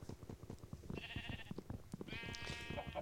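Sheep in the video game Minecraft bleat twice, a short wavering call followed by a longer, louder one, over soft tapping and clicking game sounds.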